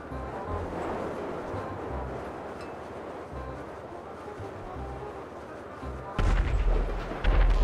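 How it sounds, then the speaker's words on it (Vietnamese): A plane exploding in GTA V sets off a sudden loud, deep boom near the end, breaking through a steady rumbling game soundscape of low booming thuds. "À, chắc máy bay nổ."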